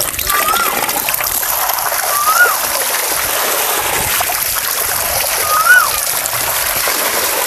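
Ridge gourd being rinsed by hand in water, with a steady run of splashing and slopping close by and two louder splashes partway through, over faint background noise.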